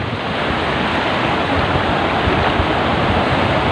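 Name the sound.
ocean waves breaking on shore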